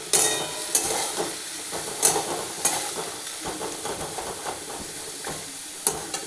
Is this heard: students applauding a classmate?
no